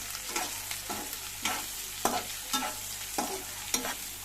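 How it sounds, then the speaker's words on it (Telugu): Cinnamon and cloves frying in oil sizzle steadily under a regular rhythm of about eight spoon stirs and scrapes against the pan, close and clear, with no talk. "చెక్క లవంగాలు చూడండి అన్నీ వేసేసుకున్నాను నూనెలో బాగా వేయించాలండి"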